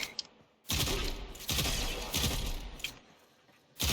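Bursts of video game gunfire shooting at a cabinet, several loud sustained volleys separated by short pauses, crackling and close, with no talk.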